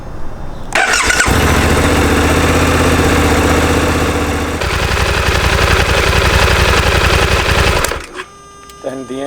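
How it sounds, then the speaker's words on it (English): A Suzuki V-Strom 800 motorcycle engine cranks and fires, then settles into a loud, steady rumbling idle for several seconds before cutting off, leaving quiet background. "Start the engine and leave on idle for 5 minutes."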